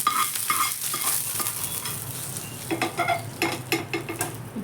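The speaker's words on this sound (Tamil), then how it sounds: "இதை நம்ம தயிர் சாதத்தில் மிக்ஸ் பண்ணிக்கலாம்" A spoon stirs crackling fried ginger, green chilli and curry leaf tempering into a bowl of curd rice, with soft scraping clinks and a faint sizzle, close and moderately loud with no talking.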